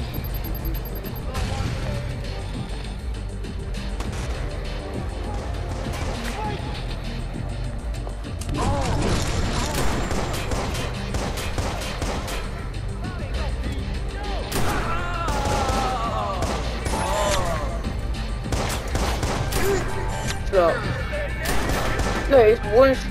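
Repeated gunfire in the video game Watch Dogs, with bursts and single shots running throughout amid loud game action, crashes and mechanical clatter, while a player talks and exclaims over it.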